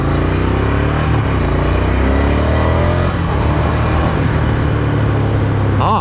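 A Ducati Scrambler Desert Sled motorcycle on a test ride over loose gravel, its engine droning loud and close with steady revs and wind rush, rising in pitch toward the end.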